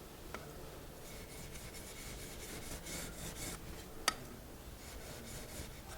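A few short blade strokes across a sharpening stone during a Horsa glider repair produce a soft, faint rasping rub, quiet and close, with one sharp tap partway through.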